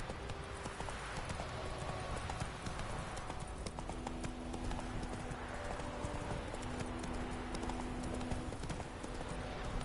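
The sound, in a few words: horse Roach galloping in video game The Witcher 3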